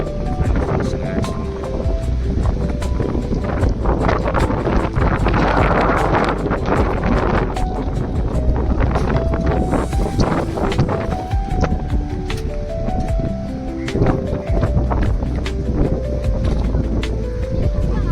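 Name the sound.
strong wind at the seashore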